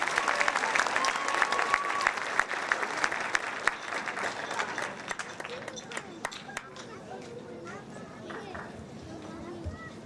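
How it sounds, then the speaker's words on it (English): An audience claps for students at a high school awards ceremony in a hall, loud sustained applause that gradually thins out into scattered claps and murmuring crowd chatter. "One more round of applause for our students in foreign language and native speakers"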